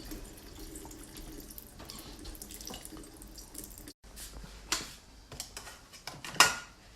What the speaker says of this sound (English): Make sure you pour all the juice out.